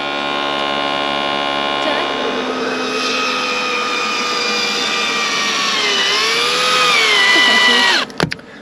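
A cheap portable air compressor drones steadily while slowly inflating a car tyre on a rough Sahara drive, its motor whine holding a near-constant pitch, then dipping and cutting off with a clunk near the end.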